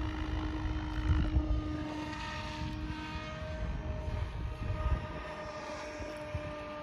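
A radio-controlled helicopter hovers on a Hobbywing ESC-driven electric motor, giving off a steady whine with strong tonal harmonics over a low rotor drone, fairly close and continuous, with a few brief gusty swells and no voices.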